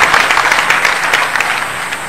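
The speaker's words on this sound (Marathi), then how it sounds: "यासाठी बालाजीरावांच्यासाठी आपण सर्वांनी एक वेळेस टाळ्या वाजवून त्यांचं स्वागत करावं." A crowd applauds to welcome MLA Balajirao Patil Kalyankar at his birthday celebration in Nanded North, a loud, dense round of clapping that fades slightly toward the end.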